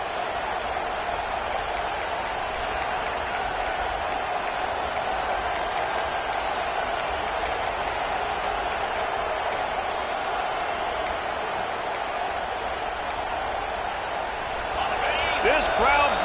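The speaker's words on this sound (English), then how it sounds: "This crowd bringing the energy and noise early." A stadium crowd at a Florida vs Utah football game roars in a steady, loud wash of noise, with an announcer's voice running over it and a brief burst of louder cheering near the end.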